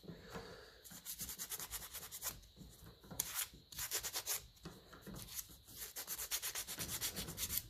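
An old Lucas diesel starter part from a 1955 Ferguson 20 tractor is scrubbed clean by hand: quiet, close, rhythmic rubbing strokes in short bursts with brief gaps between them.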